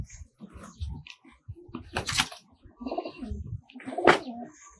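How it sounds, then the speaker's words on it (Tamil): Tumbler pigeons cooing inside a loft, low murmuring coos mixed with rustling, scattered knocks and a couple of sharp bursts of noise nearby. "இது கர்ணப்புறா"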